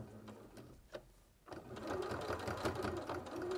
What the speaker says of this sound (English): Is that a bit of top stitching?